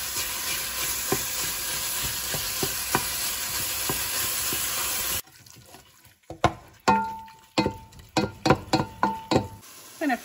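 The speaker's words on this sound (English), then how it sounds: "I'm going to fry up that ground beef until no pink remains." Ground beef frying in a pot that previously held caramelized onions, steady loud sizzle for several seconds, then quieter with a series of sharp scraping and clinking stirs from a utensil against the pot.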